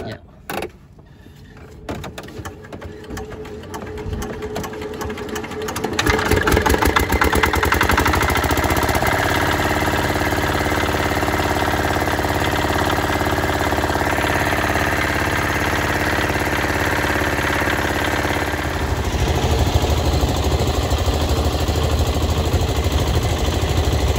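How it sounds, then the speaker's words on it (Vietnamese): A fishing boat engine at sea turns over with rapid mechanical clatter, then catches and settles into a loud, steady idling drone that continues for about twenty seconds. "nổ máy lên ạ"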